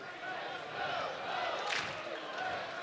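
A packed Rec Hall arena crowd at a college wrestling dual chants and roars steadily, a dense mass of voices, with talk over it.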